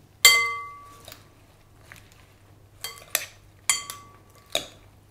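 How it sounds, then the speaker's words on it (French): Caesar salad is tossed with dressing in a bowl, producing a handful of bright, ringing utensil knocks against the bowl, spaced irregularly with quiet pauses between them. "Bien mélanger."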